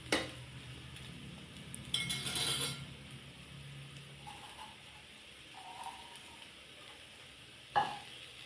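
A spoon stirs potato roast in a pan with a few soft scrapes and light metallic clinks, spaced out over a faint background hiss; quiet and close.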